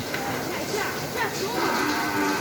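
Low cattle moos from red cows on a farm in Bosila, Dhaka, blend into a noisy outdoor scene, with steady background rumble and no clear talking in the clip.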